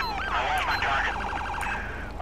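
A loud, rapidly warbling police car siren in GTA V wails continuously over a low engine rumble.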